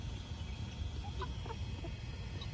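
Roosters and young cockerels cluck and make short calls in scattered bursts, faint and somewhat distant, over a low background rumble.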